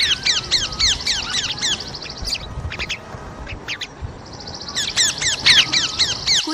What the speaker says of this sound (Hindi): पक्षियों को शोर मचाने का आदेश दिया